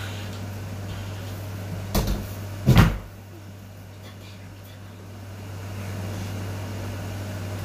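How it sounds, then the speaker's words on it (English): A bedroom door swings shut at home with a light knock followed by a heavier thud a moment later, close by, against a constant low electrical hum. "I'm gonna close my door."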